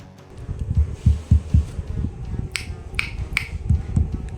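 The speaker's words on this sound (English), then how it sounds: "test the microphone by tapping on it" Fingers tap on a microphone through a PA system, giving a series of close, sharp thumps heard in irregular clusters, followed by a few brighter clicks.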